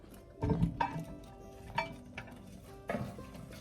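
Apple pie filling being stirred in a pot, a few close scraping and clinking strokes of a spoon against the pot, spaced irregularly and fairly quiet.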